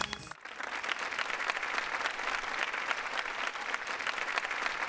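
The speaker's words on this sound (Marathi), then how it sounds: "जोरदार टाळ्या सरांसाठी" A stage-show audience bursts into steady, loud applause for film producer Sachin Salunkhe, the clapping starting after a brief pause and continuing densely to the end.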